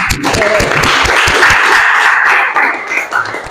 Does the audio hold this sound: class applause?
yes